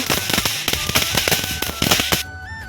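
Firecrackers at a Diwali celebration burst in a rapid series of about a dozen loud, close, sharp bangs, then stop, leaving a faint whistling tone.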